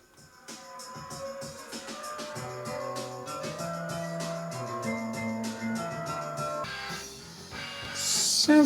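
A 7-inch single spins on a Sony PS-LX49P turntable, giving steady music with drums and a melodic line at moderate level and no talk, then a brief shift near the end as the record closes out.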